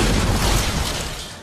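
A dramatized mid-air explosion of a BOAC de Havilland Comet airliner rumbles like thunder, a loud, sustained deep roar that slowly fades.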